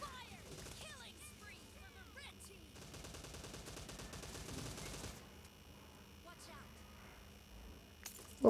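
Gunfire in a multiplayer shooting video game, bursts of rapid automatic shots and scattered single cracks through the middle, fairly faint under game sounds, with a loud impact at the end.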